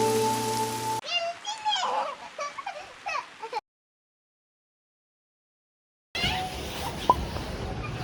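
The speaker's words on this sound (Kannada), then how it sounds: "ಮಳೆ ಶುರುವಾಯ್ತು" Rain falling in the Himalayan village of Kalpa in Kinnaur, heard as a steady broadband hiss that opens the clip and returns after a stretch of voices and a few seconds of complete silence.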